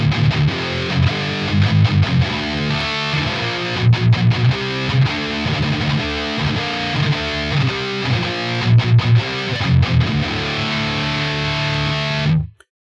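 Heavily distorted Jackson electric guitar with passive high-output pickups, through a high-gain amp, chugs palm-muted riffs with thick, saturated tone, played continuously for several seconds before cutting off abruptly.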